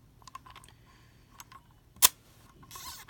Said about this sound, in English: that's how the Contax shutter works basically